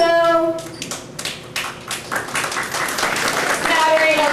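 A church audience applauds in a scattered burst of claps between stretches of a speaker's voice, with the clapping peaking in the middle.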